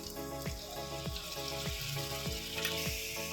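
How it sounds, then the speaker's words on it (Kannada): Ginger garlic paste sizzles steadily in a frying pan with fried onions, a constant hissing fry broken by soft, regular scraping of stirring. "ಇವಾಗ 1 ಟೇಬಲ್ ಸ್ಪೂನಷ್ಟು ಶುಂಠಿ ಬೆಳ್ಳುಳ್ಳಿ ಪೇಸ್ಟ್ ಹಾಕೊಳ್ತಾ ಇದ್ದೀನಿ"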